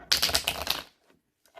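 A Rider-Waite tarot deck, Janet Bear's version, gets a quick shuffle: a rapid burst of crisp card riffling, close and clear, then a brief pause and a short clatter at the end.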